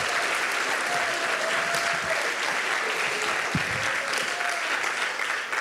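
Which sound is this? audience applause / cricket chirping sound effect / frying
audience applause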